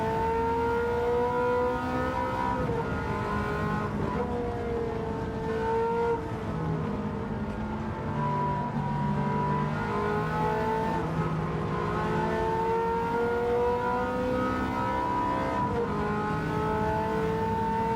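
A Ferrari GTO engine at Goodwood in a racing game drones and revs continuously, pitch rising and falling with shifts, steady and fairly loud with no talking.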